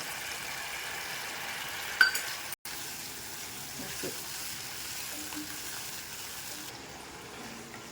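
Bitter gourd pickle cooking in a pan with chilli powder and salt gives a steady, fairly quiet sizzle and frying hiss that runs throughout, with a brief stir clatter near the start.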